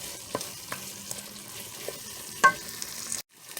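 Flour being stirred into beef pot pie filling in a hot pan, with a soft sizzle beneath and periodic scraping and tapping of a utensil against the pan, close and fairly quiet.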